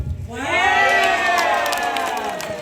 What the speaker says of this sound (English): Big round of applause for Lucy, guys.